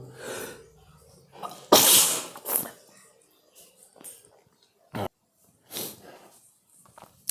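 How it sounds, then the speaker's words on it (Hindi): A single loud, sharp human sneeze bursts close by in a classroom setting, framed by quieter breaths and short vocal sounds before and after. "छींक आ गई थी"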